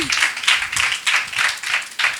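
A small audience claps for children at a Sunday school Bible quiz during a youth camp, a steady rhythmic patter of hands in bursts of roughly half a second, fairly close and alone.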